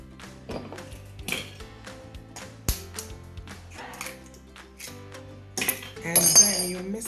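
Banana bread batter being mixed with an egg in a bowl: irregular clinks and scrapes of a utensil against the bowl, close and fairly loud, with a busier clattering burst near the end.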